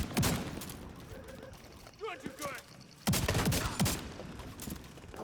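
Rapid bursts of gunfire in Tom Clancy's The Division 2, loud and close, come in two long volleys separated by a brief lull, with a voice talking faintly underneath.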